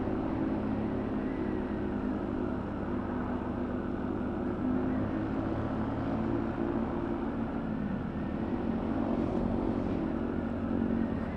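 A 125 cc motorcycle engine hums steadily at cruising speed on a dual carriageway, a constant loud drone with wind rush throughout, no talking.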